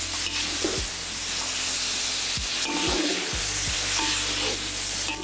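Ground onion and ginger paste sizzles and hisses steadily in hot oil while being sautéed and stirred for sambal, a continuous loud frying crackle with occasional scraping stir strokes and no voices.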